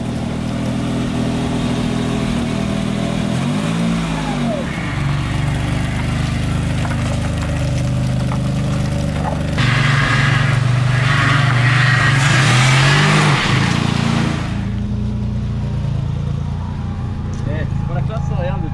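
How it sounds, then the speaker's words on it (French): A DeLorean DMC-12 with its PRV engine under restoration, driven on private roads, rumbling steadily and revving up in a couple of strong surges, heard up close from inside the car. "Ça sonne presque bien un PRV"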